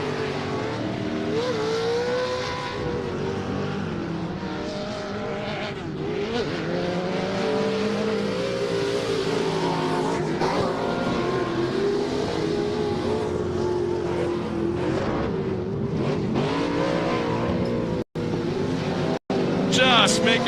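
Pro Lite and Pro 2 short-course off-road race trucks roaring around a dirt track at the Great American Short Course, sustained loud revving engines that rise and fall through a long left-hand sweeper under continuous commentary.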